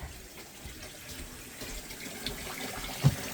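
Water runs from a tap during morning farm chores while a bucket of calf grower is filled, a steady close rushing splash with a brief sharper spurt near the end.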